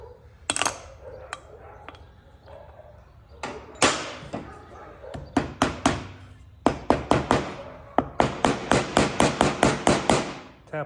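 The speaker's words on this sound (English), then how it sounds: "We'll just tap in our 1/2-inch bearings that fit the axle bolt." A hammer taps 1/2-inch bearings into a zero-turn mower wheel by striking the outer race. The sharp, close knocks come in scattered single hits at first, then speed up into a quick, steady run of taps near the end.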